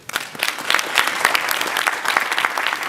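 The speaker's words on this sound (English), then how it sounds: "Clap for them, please." Applause from a conference audience for the Engineering Student Association at an international engineering students conference, a dense, steady wash of many hands clapping throughout, fairly loud and close.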